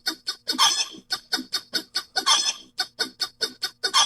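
A clucking, fowl-like novelty tune plays loud and alone, in choppy bursts that cut in and out at a quick regular rhythm.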